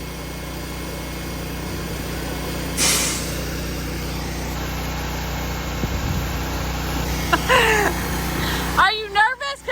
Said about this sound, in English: he's gonna move his truck out of the way.